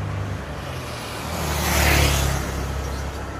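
Car overtaking on a road, engine and tyre roar swelling to a peak near the middle and then fading, over steady traffic rumble, with no voices.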